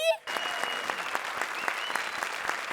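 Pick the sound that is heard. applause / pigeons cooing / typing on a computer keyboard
applause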